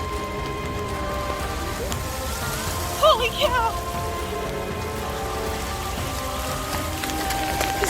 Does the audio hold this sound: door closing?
no